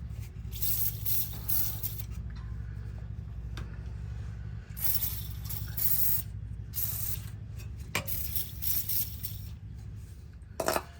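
Repeated hissing bursts of aerosol spray on a Ford F350 truck muffler installation, close by, with scraping and small metallic clicks between them.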